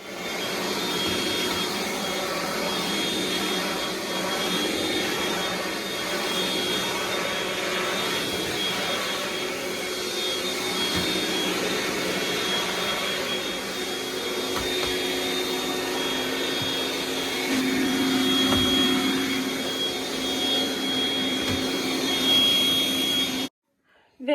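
A vacuum cleaner runs continuously while dusting a room, a loud steady whining roar that varies slightly as it moves, then cuts off abruptly at the end.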